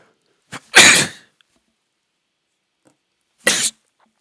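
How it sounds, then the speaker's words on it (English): Two sharp sneezes separated by a few seconds of silence: a short catch and then a loud burst, followed later by a second briefer sneeze, close to the mic. "I'm sneezing too much"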